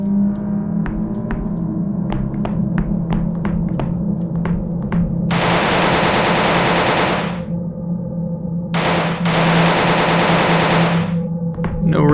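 Weapon fire in the horror video game CARGO, a series of sharp evenly spaced shots followed by two long bursts of harsh automatic fire over a low steady hum, with no talk.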